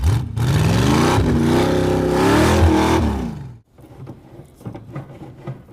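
A 1985 C4 Corvette kart engine revs loud and close in one long sustained climb up a rocky off-road hill, pitch rising then cutting off abruptly, followed by quieter scrapes and clatter.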